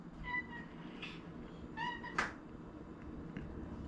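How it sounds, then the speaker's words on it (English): A cat meows indoors several times, with short, tonal cries spaced irregularly and one sharper, louder call in the middle. The cries come across fairly faint and close, with no speech. "This cat, man."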